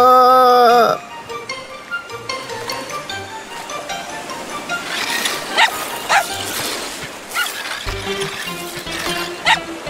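Cartoon puppy barks in an animated car show, with a burst of yips and bow-wows mixed into busy music and effects, moderately loud and fairly close.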